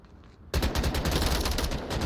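Automatic gunfire in the VR shooter Onward, a sudden loud burst of rapid shots erupting after a quiet start and rattling on steadily to the end.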